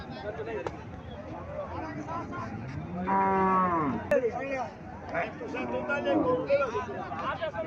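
A desi cow at a busy cattle market gives a loud, drawn-out moo near the middle, with the crowd's chatter and a voice around it.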